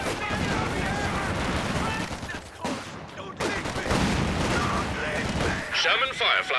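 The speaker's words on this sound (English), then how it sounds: "Good mortar shell in there." A mortar shell explosion in Company of Heroes 2 lands amid continuous battlefield gunfire and distant booms, dense and rumbling, with a commentator talking over the combat.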